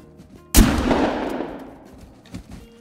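A single loud shotgun blast of buckshot fired at a blacktail deer while hunting, a sharp close report followed by a long rolling echo that fades over about two seconds.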